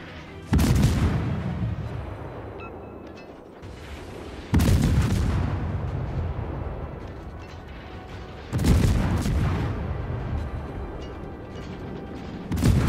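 Heavy naval gun salvos thunder in a World of Warships battle against the battleship Missouri, three loud booming broadsides spaced about four seconds apart, each rolling into a long rumbling decay with mechanical clatter beneath.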